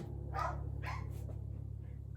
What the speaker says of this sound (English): he sees the dog out the front window, barks at it